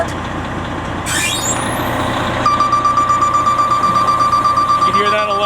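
A loud fire truck ladder warning alarm beeps in a rapid steady rhythm over a rumbling high-idling engine, with a brief rising electronic tone before it starts.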